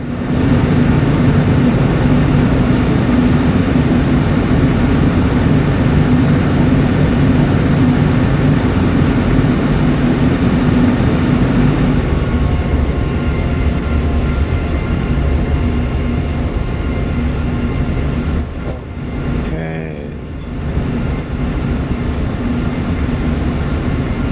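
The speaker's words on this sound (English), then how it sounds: "And then we finally touched it down. Speed brake up, or spoiler up, and then reverser." Airliner touching down and braking with spoilers raised and thrust reversers deployed, a loud steady rumble of engine roar and rolling noise heard from inside the cabin, with a brief dip and rattle near the end.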